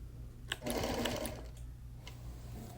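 Sewing machine quilting cotton fabrics on a wool wall quilt, one steady run of stitching lasting about a second, close and fairly loud, then easing off into quieter machine hum.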